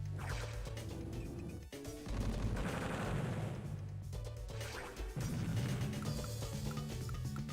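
Advance Wars: Dual Strike game audio as artillery fires on a Neotank: dense, loud bursts of explosive crashing and rapid gunfire-like blasts over continuous game music, with short breaks between volleys.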